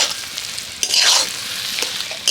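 Mashed potato mixture for lote fish chops is stirred and scraped in a hot pan, with a soft steady sizzle and a couple of louder scraping strokes over about two seconds.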